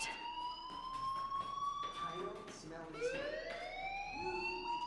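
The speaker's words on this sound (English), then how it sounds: "do you hear that fire alarm?" A shrill fire alarm wails continuously in rising and falling tones in the game Life Is Strange, fairly loud and steady, with faint background activity beneath it.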